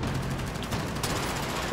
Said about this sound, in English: Shotgun. Freaking shotgun.